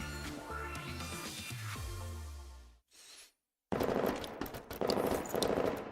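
Gunfire in the video game Girls' Frontline during a base assault: a dense, loud burst of rapid shots over music-like tones, a brief near-silent gap, then sustained crackling automatic fire.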